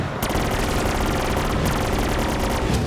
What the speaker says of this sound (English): Use my death laser to just melt zombies.